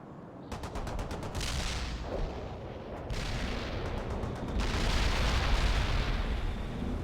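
In the World in Conflict video game, an artillery barrage pounds the ground in a dense, continuous roar of explosions and booms that builds louder over several seconds, with rapid crackling bursts near the start.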